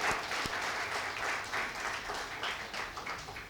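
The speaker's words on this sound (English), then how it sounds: "Let's have a warm welcome and a round of applause for Nija." Panel discussion audience on the food industry applauds a panelist, with steady, fairly quiet clapping from a modest crowd that continues evenly with slight swells.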